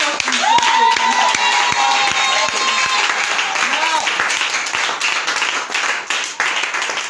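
A church congregation at a worship service in Bouaflé, Côte d'Ivoire, clapping and loudly acclaiming, steady crowd applause with cheering voices and rhythmic claps throughout.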